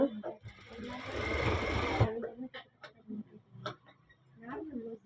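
A sewing machine stitches a silk cotton sleeve lining in a loud, dense run of about two seconds, then stops while someone talks.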